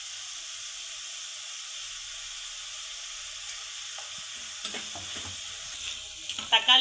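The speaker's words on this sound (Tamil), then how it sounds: "தக்காளி சேர்த்து நல்லா வதக்குங்க" Tomatoes and onions sautéing in oil for a chicken gravy give a steady, close frying hiss, with a few stirring clinks and scrapes building toward the end.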